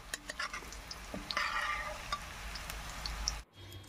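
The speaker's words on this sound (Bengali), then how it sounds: "পেঁয়াজটা কিন্তু লাল করে ভাজা হয়ে গেছে" Onions frying in hot oil in a pan for pilau, a steady sizzle with light stirring clatters, then cutting off abruptly near the end.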